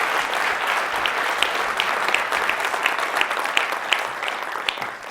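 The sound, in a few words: audience round of applause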